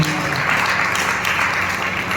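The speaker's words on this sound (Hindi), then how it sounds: "हालेलुया, ताली बजा के यीशु मसीह को।" Congregation at a Sunday church service clapping in praise, a dense, steady wash of applause filling the space at moderate loudness.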